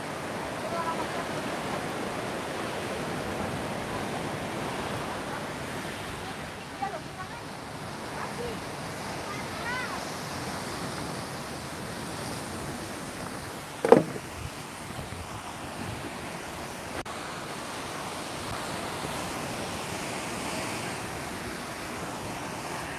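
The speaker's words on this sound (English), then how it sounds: "Oh my goodness, it's so windy down here." Strong wind buffeting at the seaside in Can Picafort, Mallorca on an evening walk, a steady broad rushing roar throughout with a sharp gust or knock near the middle.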